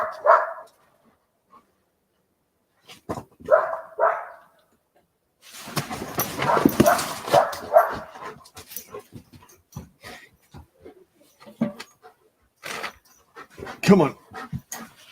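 A dog pants and barks in short bursts nearby, with a louder flurry of noise in the middle, while a person talks intermittently.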